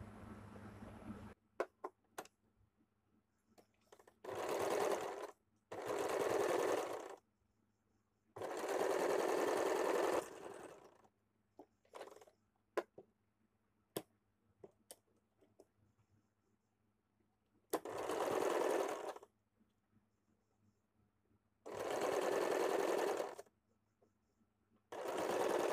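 A sewing machine stitches the seams of a princess cut blouse in about six separate runs of fast whirring, each lasting a second or two, with quiet pauses and small clicks between them.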